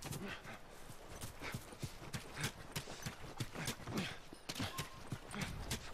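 Horse hooves clip-clop steadily in The Last of Us, a rapid even rhythm of hoofbeats close by, carrying on alone through the whole stretch.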